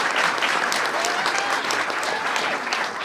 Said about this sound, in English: Give Deborah a big round of applause.